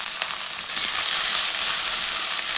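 Chopped flat beans tossed into a hot pan for a South Indian poriyal set off a loud, steady hiss of frying that swells after a brief rattle, continuing alone without any voices.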